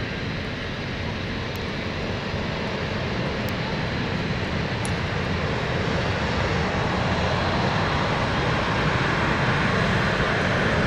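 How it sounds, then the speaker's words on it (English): A Swiss Embraer jet airliner at London City Airport produces a loud, steady broadband engine roar that holds constant and close throughout, with no talking over it. "There is our Embraer. A standardised Embraer for Swiss,"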